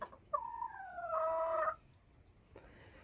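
A hen on a spring farm gives a short run of clear, nasal clucks in one close burst lasting a little over a second, followed by quiet with a faint click near the end.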